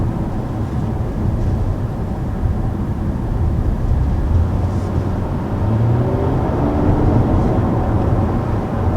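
A 2019 Nissan Maxima's VQ engine drones inside the cabin in sport mode, a steady loud low rumble with road noise, with no talking.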